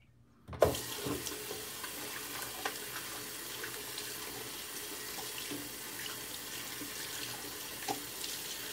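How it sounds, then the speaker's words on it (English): Running tap water splashes steadily into a sink as a shaving brush is rinsed, starting abruptly after a brief silence and continuing as a close, even gush with small splashy bumps. "Let me rinse out my brush real quick, guys."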